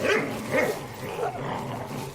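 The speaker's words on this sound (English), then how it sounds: "Watch as those ravenous dogs catch the fallen wretch" Ravenous dogs bark and yip in a rough, overlapping cluster, several short bursts close together at moderate loudness with a muffled, reverberant background.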